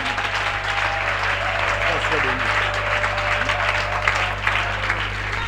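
A church congregation applauds for Jesus in a steady, dense wash of clapping that carries on throughout, loud and close, with a low constant hum underneath.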